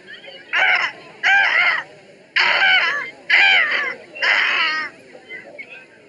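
People imitate buzzard calls in a contest, giving five loud, raspy, cawing cries in a steady series, each about half a second long, followed by a fainter trailing call.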